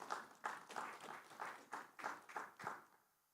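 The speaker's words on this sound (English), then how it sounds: "Round of applause." Applause at a governance conference: a faint, sparse burst of clapping from a small audience with loose rhythmic swells, dying away after about three seconds.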